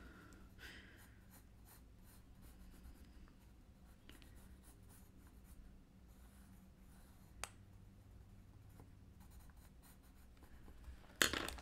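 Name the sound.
Mitsubishi pencil drawing on paper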